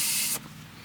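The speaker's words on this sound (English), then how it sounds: "Seems like when I first spray it, it flows very easily." A spray nozzle gives a short, sharp hiss of spray during work on a Ford Fiesta's fuel filler, loud and close, then cuts off abruptly, leaving faint background.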